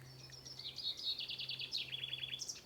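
A songbird singing directly overhead outdoors, a quick run of high, bright warbling notes and trills, faint but clear over a low steady hum.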